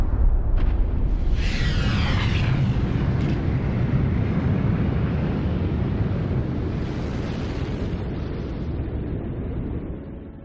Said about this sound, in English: Massive stars end explosively.